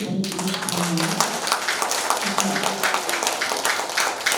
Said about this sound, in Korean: 저분한테 큰 박수를 좀 보내주고 싶어요